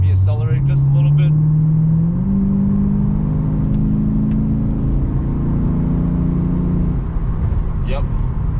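Lexus RC F fitted with an ARK exhaust accelerating gently, a loud, steady engine drone rising slowly in pitch over several seconds, heard from inside the cabin with brief talk at the start.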